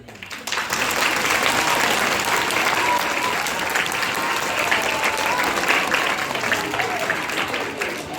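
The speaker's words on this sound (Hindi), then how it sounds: "यदि बातें समझ आए तो तुम ताली बजा देना" Children and audience at a school Children's Day event break into loud, sustained applause after a poem recitation, rising quickly and holding steady as a broad wash of many hands.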